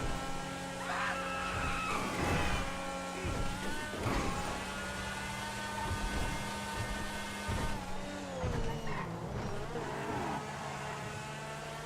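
A sports car engine drones and revs steadily in GTA Online, pitch rising and falling through gear shifts, loud and continuous.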